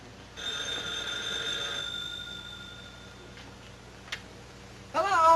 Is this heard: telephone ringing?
yes